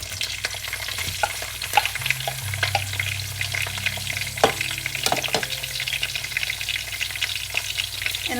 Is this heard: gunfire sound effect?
no